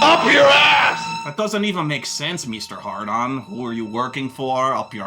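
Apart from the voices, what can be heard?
No everyday noise stands out behind the speech.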